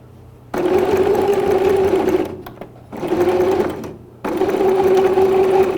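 Sewing machine stitching in reverse to backstitch fabric on a simple baby bib, three steady close runs of motor whir separated by short pauses, no talking.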